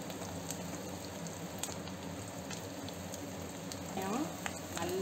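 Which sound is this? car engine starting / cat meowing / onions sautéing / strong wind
onions sautéing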